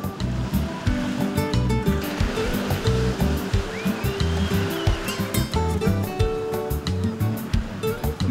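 Surf rolls onto a beach in Puerto Rico in a steady, broad wash of waves, heard together with rhythmic background music throughout.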